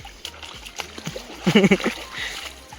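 Footsteps slosh and splash through shallow water in a steady walking rhythm, with a brief voice heard partway through.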